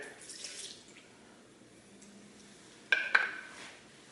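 Tequila pours briefly into a blender, a soft splashing trickle, followed by a couple of sharper clinks and a faint gurgle.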